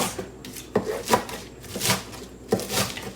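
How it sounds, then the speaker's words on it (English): A kitchen knife runs through food on a cutting board, chopping it into small salad pieces: a handful of sharp, close thunks and scraping strokes spaced irregularly, with quiet pauses between them and no talking. "So just go ahead and run my knife through this"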